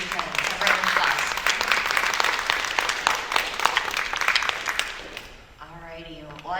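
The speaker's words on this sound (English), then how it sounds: "A round of applause." Audience applause at a book festival, a dense steady wash of many hands clapping for about five seconds before fading, followed by a voice speaking briefly at the end.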